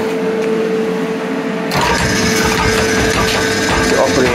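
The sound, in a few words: power hacksaw running in a workshop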